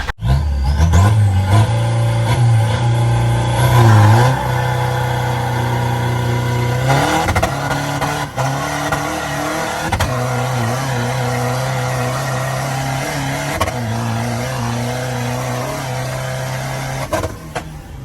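An Isuzu D-Max pickup with a 3.0-litre turbo engine accelerates and shifts through its gears, its engine note rising and dropping at each change before settling into a steady drone, loud and close from inside the cab.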